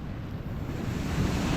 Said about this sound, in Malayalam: നല്ലപോലെ തന്നെ കടൽ കയറുന്നുണ്ട് കേട്ടോ